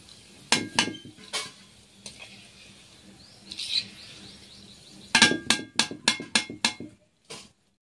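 Fried potatoes being lifted out of a pan onto a plate, with a burst of close, sharp metallic clinks and scrapes of utensil against pan and plate, several quick taps in a row, separated by quieter gaps.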